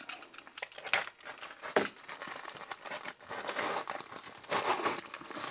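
A utility knife slices open the packaging of a new SRNE solar charge controller during an unboxing, with steady close crinkling and tearing of plastic and cardboard throughout.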